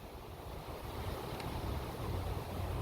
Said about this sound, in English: A little windy out here.